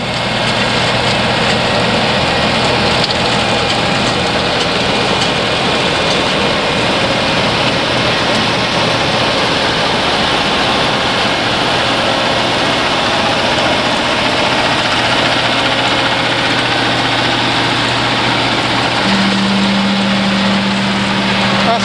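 An older sugar beet harvester, a 1987 six-row machine, runs steadily nearby with a constant low engine drone and broadband mechanical rumble, outdoors and without speech.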